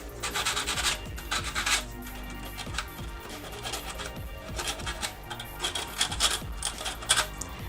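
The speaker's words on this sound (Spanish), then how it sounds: "solo le pasamos un poquito con la lija y listo" Sandpaper scratches against small metal pins on a Sega Saturn in short uneven bursts of rubbing, close up and fairly quiet.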